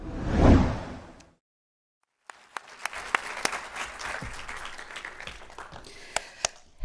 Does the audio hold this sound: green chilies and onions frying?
no